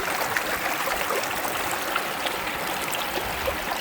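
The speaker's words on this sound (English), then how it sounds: "now the sluice looks like it's running really well. Nice pace of water going across it." River water rushing steadily across a gold sluice, a continuous close splashing and gurgling flow with no voices.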